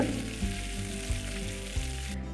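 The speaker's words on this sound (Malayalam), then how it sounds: "ഇനി നമുക്ക് കറിവേപ്പില ചേർത്ത് കൊടുക്കാം. ഇതെല്ലാം കൂടി നന്നായി മിക്സ് ചെയ്ത് ഫ്രൈ ആക്കി എടുക്കുക." Dried red chillies and curry leaves fry in oil for a Sadhya-style inchi puli, making a constant bright sizzle. Soft background music plays underneath.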